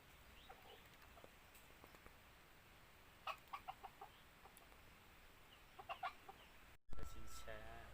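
F1 and F2 crossbred chickens cluck in short bursts against quiet background hiss, a few soft calls early, then clusters of louder clucks, before a sudden louder rush of noise at the end.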